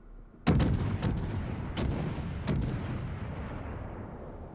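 Naval guns boom in World of Warships as a French cruiser fires: four heavy salvos spaced about a second apart, each with a sharp crack and a long rumbling decay.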